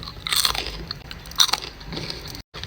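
Crunchy french fries are bitten into up close, giving two crisp, crackling bites about a second apart followed by softer chewing.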